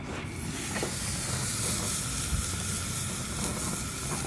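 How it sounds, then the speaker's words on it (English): Steaks sizzling on an outdoor grill, a broad steady hiss and crackle that holds level for the whole stretch, fairly close, with no talking. "getting ready to throw some steaks on the grill"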